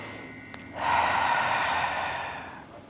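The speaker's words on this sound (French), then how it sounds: "Prenez quelques grandes respirations ici." One long, deep breath during outdoor yoga: a soft click, then a strong airy inhale or exhale that swells in and fades slowly over about two seconds, close and alone.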